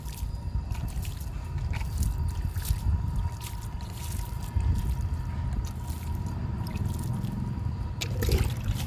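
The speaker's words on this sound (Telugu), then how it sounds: "మూడు టబ్బులకి వాటర్ ఇస్తున్నాను" Water poured over three tubs of freshly sown seeds in a home garden, a steady close splashing and trickling that runs through the whole stretch with no talk.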